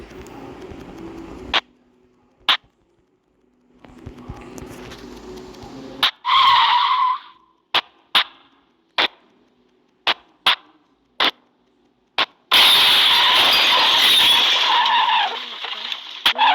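A car in a GTA 5-style video game drives and skids, with sharp tire screeches, bursts of engine roar and a string of short loud impact clicks separated by near silence.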